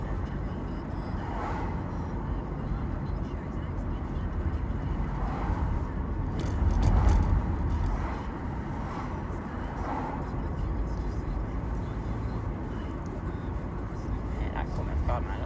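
A car swerves fast around a parked vehicle toward oncoming traffic. Its pass swells briefly out of steady road and engine rumble about halfway through, then fades back into the continuous driving noise.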